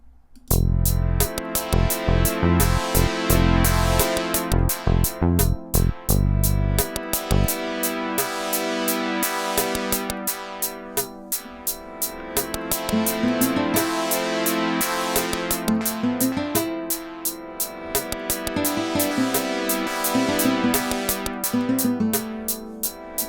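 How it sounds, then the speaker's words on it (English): An Arturia soft-synth electric piano patch called Pulsing Clouds plays a steady, continuously pulsing chordal pattern with shifting note movement, alone and without any voices, for over twenty seconds. "I guess it's a keys or electric piano sound"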